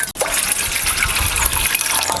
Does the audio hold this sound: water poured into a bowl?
yes